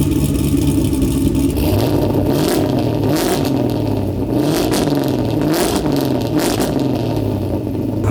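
A Mazda Miata with a swapped LS V8 and a new exhaust revs hard and close, its deep, loud burble rising and falling through several blips over a steady rumble.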